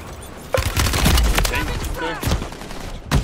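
Sharp bursts of gunfire crack out in quick succession amid Call of Duty: Modern Warfare III game sound effects, with voices chattering over the shots.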